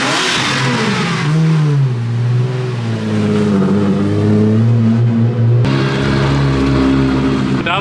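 A car engine revs steadily and loudly, close by, as a vehicle towing a trailer drives into the pit lane at a drift event.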